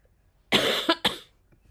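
A short coughing fit: one longer harsh cough followed by two quick sharp bursts, close to the microphone, alone with no talk.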